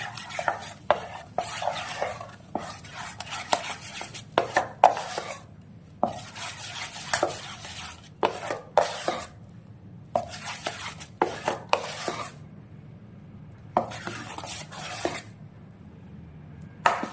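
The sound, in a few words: stirring jowar idli batter with lemon juice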